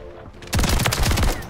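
Rapid automatic fire from the JAK Maglift Haymaker shotgun kit in Modern Warfare 3, a quiet lead-in giving way at about half a second to a loud, dense burst of booming shots for the remaining second.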